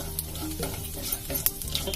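Mustard seeds and cumin crackle and sizzle in a hot pan on a tawa, with a steady frying hiss and a few sharper pops and stirring scrapes throughout.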